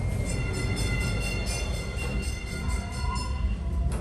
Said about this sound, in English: You hear a DART rail leaving.